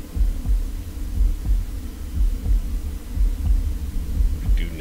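In the early-access survival game Bermuda Lost Survivor, a low heartbeat throbs steadily in repeated soft double beats, close and continuous, with a faint higher sound right at the end.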